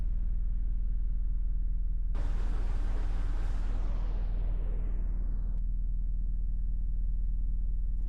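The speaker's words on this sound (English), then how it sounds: "God, this car sounds rough." A rough-running car on a test path in the game Car Mechanic Simulator 2018, a steady low engine drone with a loud rushing burst that sweeps in partway through and fades out a few seconds later, with no talking.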